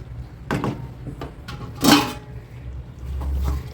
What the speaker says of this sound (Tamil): அப்படியே மூடி வச்சிடலாம்